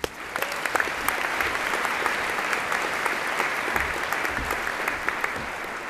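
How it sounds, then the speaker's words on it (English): A high school graduation audience gives a steady round of applause, dense and even clapping from a large crowd filling the hall for several seconds with no talking. "So everyone, please help me welcome her with a nice round of applause."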